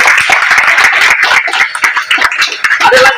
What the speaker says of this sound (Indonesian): Tepuk tangan lah untuk Supermoto Brother.